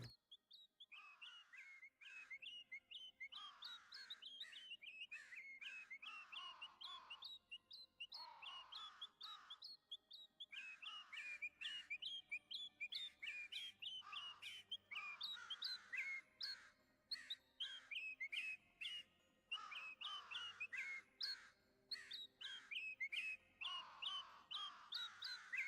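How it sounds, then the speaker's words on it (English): Birds chirp and crows caw in the video game Shadows Over Loathing: a steady stream of bright calls and repeated caws, dense and continuous, with no voices over them. "Listen to the birds."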